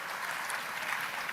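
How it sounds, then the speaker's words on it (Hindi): Crowd applause at a youth assembly event in Madhya Pradesh, welcoming minister Anurag Thakur; a steady, dense wash of clapping fills the short stretch with no voices over it. "एक बार फिर तालियां बजा के उनका स्वागत कीजिए"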